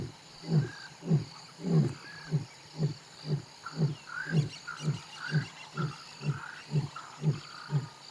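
Three lions in Africa roar in a long rhythmic series of deep grunting calls, moderately distant, with a steady patter of rain and birds faintly in the background.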